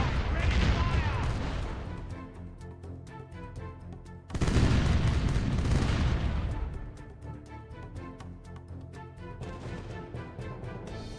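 Ship cannons in Caribbean Legend firing a broadside, two heavy booming volleys with long rumbling, reverberant tails, loud and close, the second blast landing midway.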